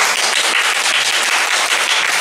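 Audience at a music workshop during a nature-sounds festival in Taipei applauds to welcome a musician, a steady, dense wash of clapping that holds evenly loud throughout with no voices on top.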